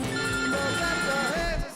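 A telephone ringtone rings loud and close at a Toyota Easter festival, repeating steadily before cutting off abruptly.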